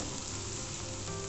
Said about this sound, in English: So we need to continuously stir till the onions are semi-cooked.